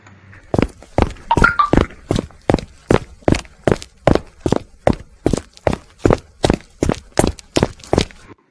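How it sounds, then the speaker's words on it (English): Footsteps walking or running, about seventeen evenly spaced, loud, close steps in a steady rhythm, heard alone with no other sound. "So this was the sound of footsteps."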